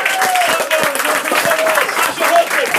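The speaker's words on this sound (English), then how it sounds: "Come on, start clapping." Audience at a live comedy show claps steadily, a dense continuous burst of applause with a voice talking over it.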